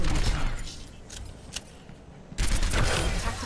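Hip-fired gunshots in the Overwatch video game crackle in quick bursts, a loud volley at the start, a quieter stretch with a few isolated shots, then another dense burst near the end.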